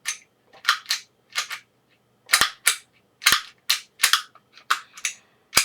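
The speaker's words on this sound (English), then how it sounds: "You'll have to pull the trigger if you're like me" A Kahr CW9 pistol gives off a rapid series of crisp, close mechanical clicks and snaps as it is reassembled and its trigger is pulled on a tabletop, each one short and separated by brief silences.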